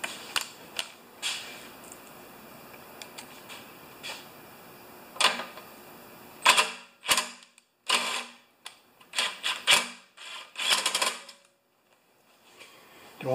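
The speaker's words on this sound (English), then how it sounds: "I like to use an 8mm socket for that." A socket wrench with an 8mm socket works on an older Honda lawn mower that leaks oil, giving a sparse run of sharp ratcheting clicks and ticks up close, with quiet gaps between bursts and no talking.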